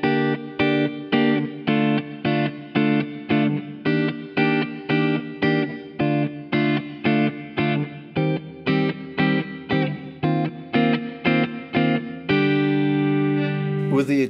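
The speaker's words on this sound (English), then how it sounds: "When you want to listen to this guitar and you listen to a clean sound," A Paul Reed Smith S2 Custom electric guitar with a clean tone plays a repeating picked pattern of evenly spaced notes, ending on a held chord.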